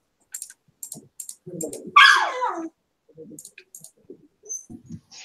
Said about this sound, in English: sorry, my dog's freaking out